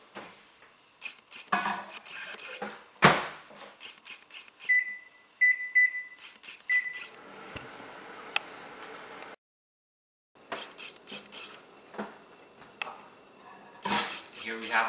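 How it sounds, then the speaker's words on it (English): A microwave oven heating sweet tea gives brief beeps from button presses, then irregular clicks and clatter as the door and cup are handled, with a short quiet pause before more handling noise. "Then microwave for 4 minutes."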